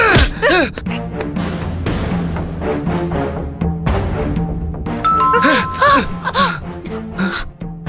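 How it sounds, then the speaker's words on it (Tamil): A house doorbell chimes a few times in a Tamil TV serial scene, the ding-dong tones standing out over dramatic background music with gasps. "என்னடி காலிங் பெல் அடிக்குது?"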